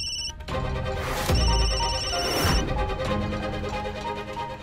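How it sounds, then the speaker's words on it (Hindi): A telephone ringtone chimes in repeated electronic tones, mixed with swelling dramatic whooshes and musical hits. "ये अस्पताल से फोन क्यों आ रहा है?"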